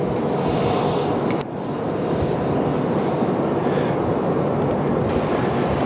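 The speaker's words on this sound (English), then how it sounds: "There's our Qantas 33 just on the push now from bay number" A Qantas airliner pushes back from bay 25 at Sydney Airport, a steady loud jet engine rumble and whine droning on without a break, with one brief clatter partway through.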